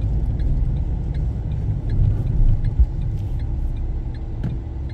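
A car engine idles low and steady on a street beside a small plaza, a continuous rumble with a brief bump near the end and no talking.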